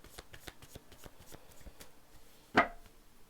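Tarot cards are shuffled in a quick run of soft, close riffling clicks, then one card is slapped down with a single louder snap near the end.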